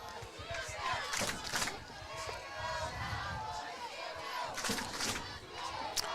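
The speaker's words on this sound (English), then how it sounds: "the Cowboy fans now into it. Boy, nice crowd on hand here tonight." Football fans in a high school stadium crowd at a Breckenridge Cowboys versus Staples-Motley game cheer and shout in a steady distant roar with bursts of louder yelling.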